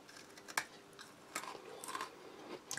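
Crunchy peach-flavoured astronaut space food crisps are bitten and chewed close up, giving one sharp crack followed by several softer, irregular crunches in a quiet setting.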